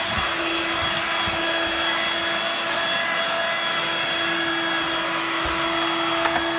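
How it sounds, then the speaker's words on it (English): A Dirt Devil Vibe corded bagless stick vacuum runs with its rotary brush engaged, a steady close whine and whoosh holding level throughout with faint bumps as it moves over carpet. "It activates the rotary and it picks up as a vacuum cleaner."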